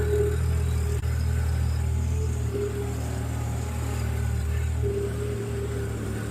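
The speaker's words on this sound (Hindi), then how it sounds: "अब रेस थोड़ा फालतू देकर ना क्लच को पैर हटा ले।" A vehicle engine held at a raised, steady rev as the clutch is released, a loud continuous droning hum close by without pause.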